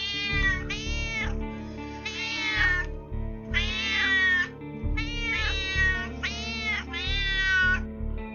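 Several cats meowing in the video game Roadwarden, six insistent, wavering meows in quick succession, some bordering on a yowl, loud and close over a pulsing low music background, with no talking.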